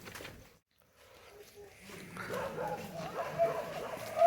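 A dog barks and yips a few times at a village in Banaskantha, Gujarat, fairly close and moderately loud, mixed in with people talking.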